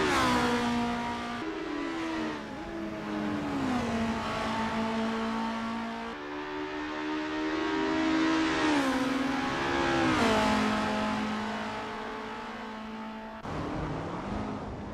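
Race cars in the Assetto Corsa video game roar continuously, with engines revving up and dropping sharply at each gear shift, a steady nearby engine note carrying through and no talk.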